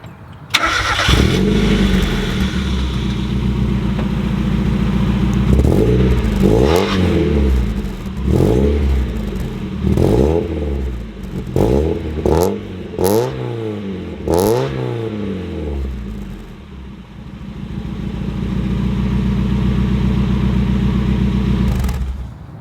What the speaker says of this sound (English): It has an exhaust on it, so I might as well fire it up and let you guys hear it.